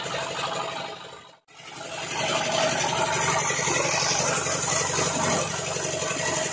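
A machine pressing and flattening kolang-kaling sugar palm fruit runs with a steady, loud mechanical drone, briefly cut off before resuming continuously.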